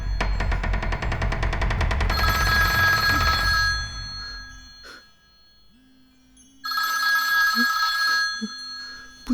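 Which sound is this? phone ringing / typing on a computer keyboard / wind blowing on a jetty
phone ringing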